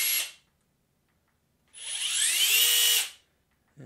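A Hikoki/Metabo HPT 36 volt Gen 3 impact driver gives a short whirring burst, falls silent, then runs again for over a second with a rising whine. Both bursts are close and loud.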